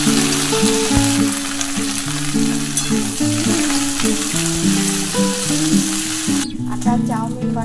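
Cut okra (bhindi) fries in hot oil in a pan. A continuous sizzling hiss plays under loud background music and stops abruptly near the end.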